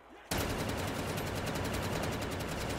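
A rapid-fire automatic gun with a 50-round magazine in Black Ops 3 zombies mode, opening suddenly into a loud, unbroken stream of evenly spaced shots that continues without pause.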